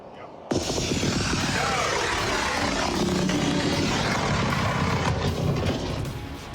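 A model rocket launching outdoors on a countdown: a sudden loud roaring whoosh kicks in after a brief pause and holds steady as a broad, rushing burn, fading slightly at the end.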